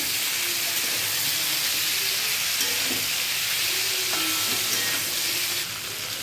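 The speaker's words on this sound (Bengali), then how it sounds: "এবার ভাজা চিংড়ি মাছগুলো দিয়ে দিলাম। এগুলোকে দিয়ে একটু ভালো করে কষাবো।" Fried prawns being stir-fried with ginger paste and spices in a pan, a loud continuous sizzle with intermittent stirring clinks and scrapes, easing slightly in the final moment.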